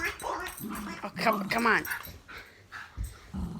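A dog growls and whimpers while holding onto its ball, the low rumbles mixed with short yips close by as someone speaks over it.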